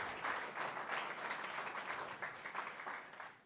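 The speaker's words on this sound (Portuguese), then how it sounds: "Damos um aplauso para Jesus." Church congregation applauding during a sermon, a faint but continuous flutter of many hands clapping for a few seconds with little talk over it.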